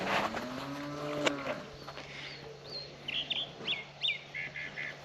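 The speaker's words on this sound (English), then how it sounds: "introduce you to the cows, because you're not really a fan of cows" Cows standing at a fence in rural Uruguay give a long, deep, drawn-out moo close by, followed by quieter background calls and chirpy bird or duck-like sounds in open countryside.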